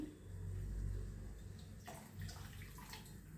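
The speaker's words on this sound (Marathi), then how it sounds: "त्याच्यात थोडंसं पाणी घालून घेते मी" Water is poured briefly into a pot of drumstick lentil curry on a gas stove, a soft splashing pour over a low rumbling background, fairly quiet.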